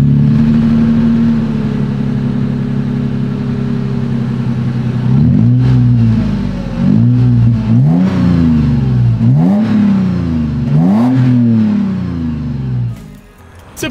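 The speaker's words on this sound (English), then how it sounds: "As always, here is that exhaust clip." A 2023 Toyota 4Runner TRD Pro with the TRD Performance exhaust idles with a low, steady drone, then blips its throttle in five sharp revs that rise and fall, loud and close, ending in a quick cutoff.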